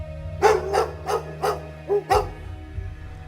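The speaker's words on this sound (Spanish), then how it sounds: "Los perros de la familia comenzaban a ladrar, aullando de manera frenética" Dogs bark in a quick, frantic burst of about six loud, close yaps, with no talk.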